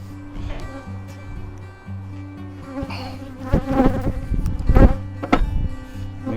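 Honeybees buzz close around a horizontal hive being inspected, a steady layered drone with individual bees swelling louder as they pass near, alongside handling knocks and rustles.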